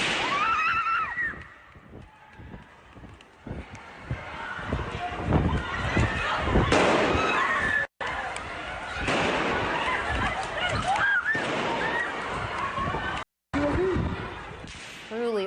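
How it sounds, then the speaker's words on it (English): Gunshots echo inside a shopping mall in Copenhagen, sharp reverberant bursts scattered through a chaotic scene of people fleeing, with screams, footsteps and raised voices mixed in. "you hear the gunshots echoing around them"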